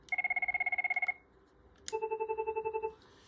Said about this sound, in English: the default ringtones is basically your Cisco Chirp 1 and Chirp 2